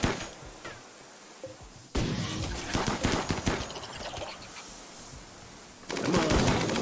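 Bursts of rapid gunfire in the RimWorld video game, a tomb world survival game, rattle on for several seconds, with a loud volley starting near the middle and another near the end.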